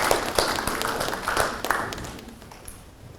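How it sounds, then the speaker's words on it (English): Sparse clapping from a small group at a community planning academy session, a few distinct scattered hand claps that taper off and fade toward the end. "give yourself a round of applause for the effort and time you've taken in completing the program"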